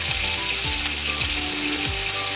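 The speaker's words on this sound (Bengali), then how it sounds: "আগে ভোলা মাছটা ভেজে নিই।" Bhola fish frying in hot oil gives a loud, steady sizzle that fills the whole clip. Faint rhythmic scraping or tapping runs underneath it.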